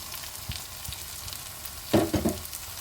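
Dry spices sizzle in hot oil for a Bengali katla fish kalia, a steady low frying hiss with soft stirring scrapes and a louder burst of crackling near the end, close by and with no speech.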